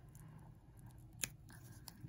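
Scissors cut through craft material, a few soft snips with one sharper close click, faint over quiet room noise.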